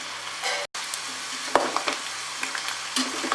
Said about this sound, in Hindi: कॉर्न को हम बीच बीच में ऐसे पलटाएंगे।